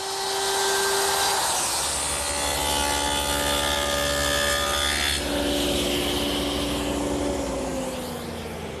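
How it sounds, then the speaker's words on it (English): A router fitted with a 3/8 inch radius round-over bit cuts along the inside and outside edges of a wooden frame. A loud, sustained whine and rasp change in pitch partway through, and no one speaks. "Now I'm just rounding over the inside and then the outside edge with this 3/8 inch radius round over bit."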